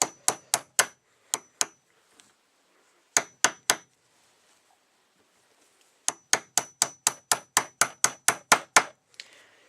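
Sharp metallic hammer strikes drive a wax-lubricated cast lead bullet into a .303 British case in a Lee Loader, coming in quick bursts of four, then a pause, then a long run of about a dozen steady blows.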